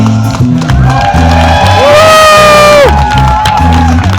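A loud crowd of adults and children at a live show in Honolulu cheers, whoops and shouts excitedly over pounding music, with clapping buried in the roar and a rising synth tone sweeping through the middle.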